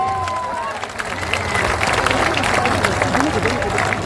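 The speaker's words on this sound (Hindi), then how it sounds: "जोरदार ताली बजाइए।" Crowd applause at a Jan Suraaj political gathering in Bihar, dense clapping rising and sustained, mixed with crowd babble and a voice speaking over it.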